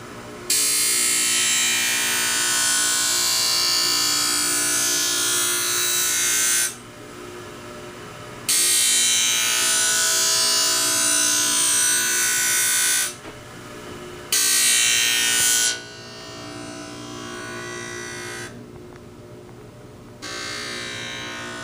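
A skate blade sharpening machine grinds a blade against its stone in slow demonstration passes, a loud steady high-pitched whine broken by several brief lulls when the blade comes off the stone.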